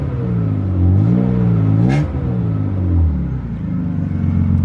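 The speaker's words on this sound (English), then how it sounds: "I'll give you guys a nice exhaust note here." A BMW E36 328is engine with a Flowmaster muffler revs up and down in a few deep, throaty swells, raspy exhaust rumbling close by before settling to idle.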